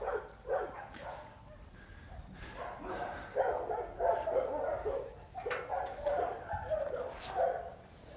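A puppy barks and yips in short, irregular bursts while playing with a toy, loud and close, with brief quiet gaps between the outbursts.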